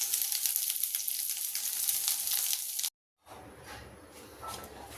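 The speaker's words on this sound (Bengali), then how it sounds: "পটলগুলো আর পেঁয়াজ রসুনটাকে ভালো করে ভেজে নিয়ে আমি আপনাদের কাছে আবার আসছি।" Pointed gourd pieces frying with onion and garlic give a steady, close sizzle that briefly cuts to silence, then returns softer with light stirring sounds.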